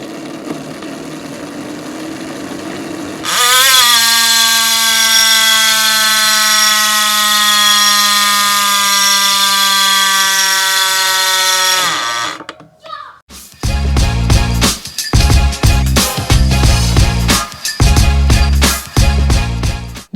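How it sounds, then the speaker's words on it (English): A Cannondale Supersix Evo Hi Mod bicycle's rear hub freewheel gives a loud, steady buzzing whir for about nine seconds, then breaks into coarser, irregular bursts of clicking up close. "let's go ahead and check out that hub sound"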